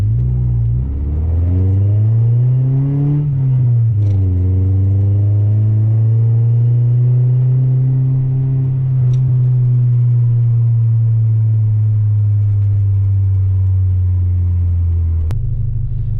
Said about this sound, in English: So my initial impressions of the exhaust, the DNA, I got the DNA cat delete, the DNA test pipe, DNA mid pipe, and then the SRS axle back.